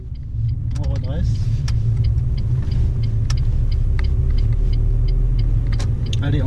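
A car rolls along with a steady low engine rumble and road noise during a driving lesson, the drone holding close and loud throughout while people talk over it and small cabin clicks sound now and then.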